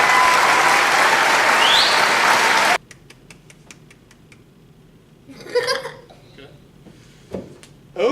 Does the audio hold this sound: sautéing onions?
no